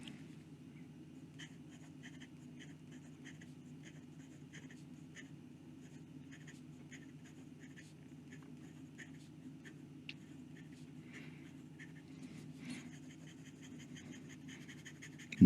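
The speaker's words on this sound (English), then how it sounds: "And some quick writing." A fountain pen fitted with a Bock nib on a Moonman M800 scratches quickly across paper in a continuous run of faint, rapid strokes. A steady low hum sits underneath, with no talk.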